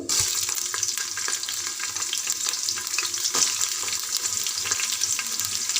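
Cumin, mustard seeds and onion fry in about two spoons of hot oil, giving a loud, steady sizzle with scattered crackles and pops, stirred now and then, close up, with no talk.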